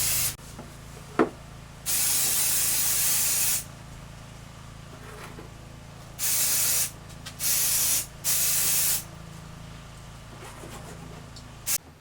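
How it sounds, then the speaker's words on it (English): Several bursts of aerosol spray hiss inside a silicone rubber raceboat mold, short and long, separated by quiet pauses, with a faint click early on; close and fairly loud. "I'm going to spray the inside of the mold that I already have"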